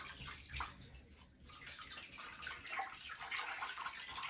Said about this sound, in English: So I'm just gonna try to wring it out a little bit at a time.